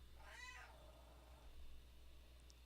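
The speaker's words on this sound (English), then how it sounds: "Doesn't she have the scratchiest meow for like the cutest little cat in the world?" A small cat gives a single scratchy, rising-then-falling meow near the start, fairly close, followed by quiet room tone.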